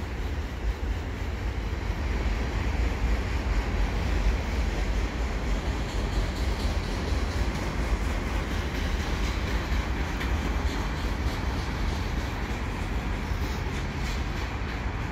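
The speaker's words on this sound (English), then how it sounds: "this is just a regular CN train now. Also headed east." Eastbound CN mixed freight train rolling steadily past at Dorval, a continuous loud rumble of railcars with rail clatter throughout, close by and alone with no voices.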